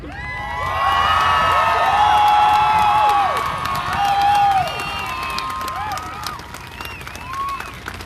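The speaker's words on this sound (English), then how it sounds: "if you can have the loudest cheer today for black women" At a Black Lives Matter protest outside the Rhode Island State House, a crowd lets out loud cheering with whoops, shouts and scattered clapping, rising in swells and then tapering off.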